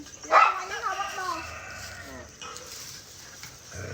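A panicking dog near a large cobra gives a short sharp yelp followed by strained whimpering cries, fairly close, with outdoor background noise.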